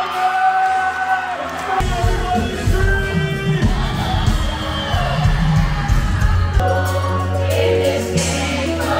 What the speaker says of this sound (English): Please give a round of applause for James S.